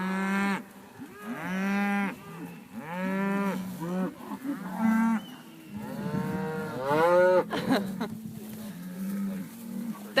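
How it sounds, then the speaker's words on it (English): Cattle on a cattle farm moo loudly and repeatedly, long drawn-out lowing calls from several cows overlapping at close range, with brief pauses between calls. "As you can see, there's nothing excited about the cows."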